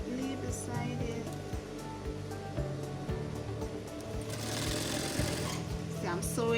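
Sewing machine stitching a zipper into a garment, close and steady with a regular rapid thumping rhythm, joined by a rushing noisier passage near the end.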